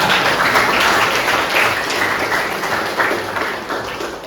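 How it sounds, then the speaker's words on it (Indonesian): Dense, loud applause from a group of attendees at an Islamic funeral prayer instruction session, continuous clapping that holds strong and tapers slightly toward the end. "Tepuk tangan buat saya."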